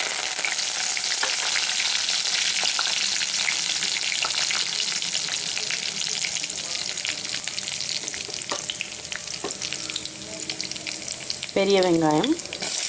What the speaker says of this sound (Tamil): இப்போ கருவேப்பிலை கொத்தமல்லி தழை போட்டுக்கலாம்.